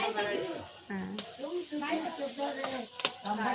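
Onion and garlic frying in a pan at home, a soft continuous sizzle with occasional stirring scrapes, sitting under a voice talking close by.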